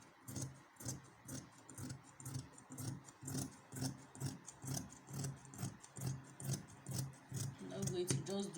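Scissors cut fabric for a wide-leg jumpsuit, a steady run of crisp snips repeating about twice per second, close and fairly quiet, with a few faint extra handling sounds near the end.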